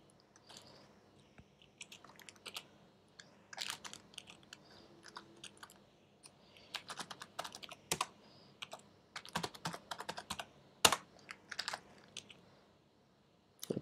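Keys clatter on a computer keyboard as a LaTeX equation is entered, with quick irregular bursts of close, crisp clicks and short pauses between runs, no voices.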